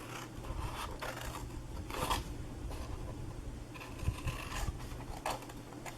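Scissors snip through the corner of a paper gift box flap in a few short, crisp bursts with quiet rustling between cuts, close and fairly soft.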